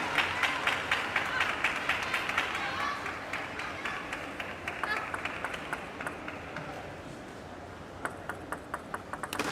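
Crowd noise swells during a table tennis match between Ding Ning and Mima Ito, with murmuring and scattered clapping mixed with sharp ball pings and commentary over the top.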